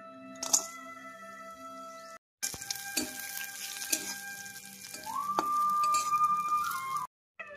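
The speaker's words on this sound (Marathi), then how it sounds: "1 चमचा तूप घेतले, त्यामध्ये काजू, बदाम, पिस्ता परतून घेणार आहे" Cashews, almonds and pistachios roast in a spoon of ghee for semolina barfi, with a soft frying sizzle, clinks of a spoon against the pan and a rising hiss toward the end.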